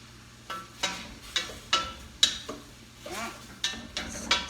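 Leeks sauteing in a pot for Italian leek soup, heard as a series of sharp, regular utensil clacks against the pot over a faint sizzle, close and fairly quiet.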